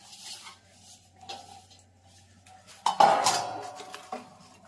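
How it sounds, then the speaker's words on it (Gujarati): Almonds and dried coconut stirred in a pan for gundar pak, with a few soft scrapes followed by a louder clatter of a metal spoon against the pan near the end. "આ બદામ અને આ ટોપરું મિક્સ કરવાનું"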